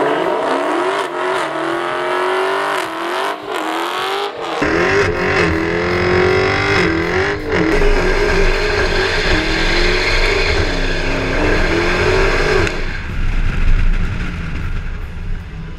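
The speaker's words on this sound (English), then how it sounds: "Smoky burnouts." Dodge Hellcat, a 2015 Charger or Challenger SRT, doing smoky burnouts: a loud, sustained supercharged engine roar with rising and falling revs and tire squeal, continuous for most of the stretch before dropping off near the end.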